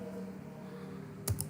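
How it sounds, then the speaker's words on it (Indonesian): A few sharp clicks of keys pressed on a computer keyboard break in near the end after a stretch of quiet room hum, close and brief. "Kemudian saya tekan enter di keyboard"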